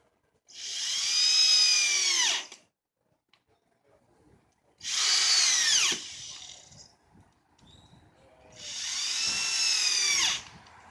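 Three separate bursts of a power drill driving screws into wooden fence boards, each whine lasting about two seconds, with brief quiet gaps and light handling knocks between them, close and clear.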